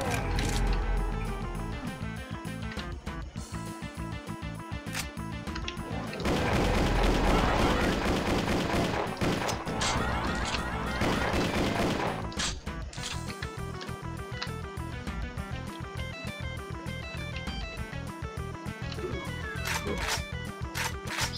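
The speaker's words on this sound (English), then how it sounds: "I just wanted, you know, enemies to fire projectiles." Plasma trooper enemies in a video game fire projectiles in dense, continuous volleys of rapid mechanical bursts and crackling shots. The bursts intensify in the middle and carry on without pause under layered game effects.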